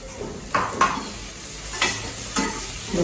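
Okra being sautéed and stirred over low heat in a pan, giving a soft steady sizzle broken by several brief scraping stirs of a utensil against the pan, close by with no talking.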